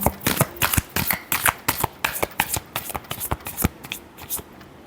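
Tarot cards being shuffled close by in a rapid, loud run of crisp riffling bursts, with no talk.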